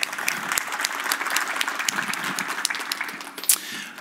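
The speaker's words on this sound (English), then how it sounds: "Let's give him a quick round of applause." A conference audience at a North American Bitcoin Conference gives a quick round of applause, with brisk, dense clapping at moderate distance and a few louder nearby claps, unaccompanied by talk.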